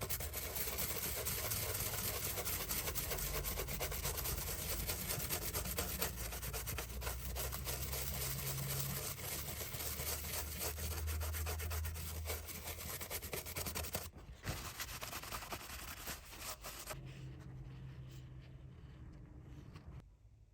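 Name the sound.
scrubbing Game Boy cartridge clean with IPA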